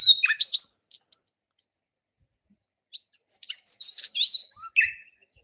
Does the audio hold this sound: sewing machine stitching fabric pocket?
no